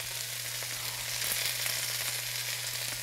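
Garlic and onions sautéing in a pan give a steady close sizzle with faint crackles, continuous and fairly loud for a few seconds, with a low hum beneath and no voices.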